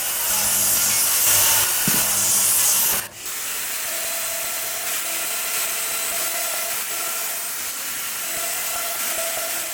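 Rough, steady rubbing hiss from sanding a wooden miter joint on a TV stand, loudest for the first three seconds and then continuing slightly softer to the end, close by and without talk.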